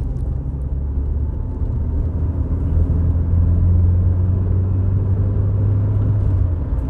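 A Rover 820 drives along a road on a long run home, its steady low engine and road rumble continuous and fairly loud from inside the cabin, swelling slightly midway with no talk.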